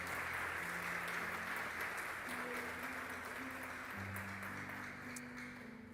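A church congregation applauds during an evening service, steady clapping from many people over sustained low keyboard chords, fading slightly toward the end.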